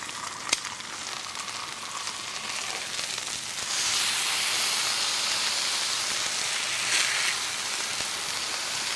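Oil sizzles and hisses steadily on a hot Blackstone griddle while surf and turf cooks, a broad frying crackle that swells louder midway and stays close and continuous with no talk.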